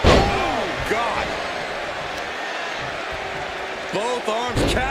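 Heavy stomps and body slams on a pro wrestling ring mat during a women's championship tag match, several thuds amid crowd noise under an announcer's commentary.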